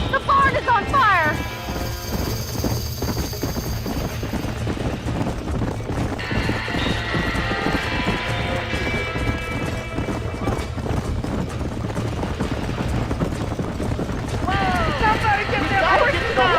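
Horses clip-clop at a steady trot in Red Dead Redemption, their hooves loud and continuous beneath a barn fire scene, with an occasional whinny and voices talking over the hoofbeats.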